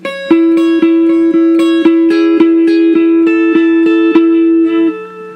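Guitar playing the second part of a riff: a steady run of clearly picked, ringing notes over a sustained low tone, even in rhythm and close, with no talking.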